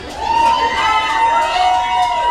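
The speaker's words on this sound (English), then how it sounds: "You're supposed to be cheering when people come in." A crowd at a bachelorette party cheers and whoops loudly, with high shouts and excited voices rising and falling throughout, near and continuous.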